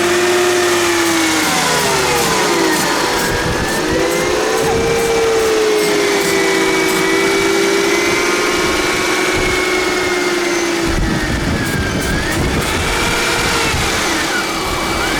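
A Mercedes engine abandoned for 20 years cranks and catches, then runs loud and close with rising and falling revs, a steady rough idle continuing throughout.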